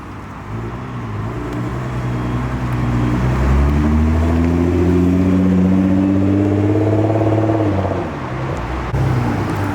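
A loud Nissan GT-R engine running on E85 idles and then revs up, its pitch climbing and holding steady before dropping back, close by and continuous.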